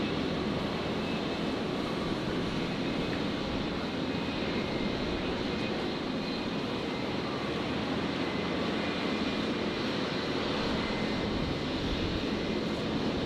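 Qantas airliner arriving from Adelaide touching down on runway 01 left at Brisbane, a constant loud broadband jet rumble and rush sustained throughout without a break.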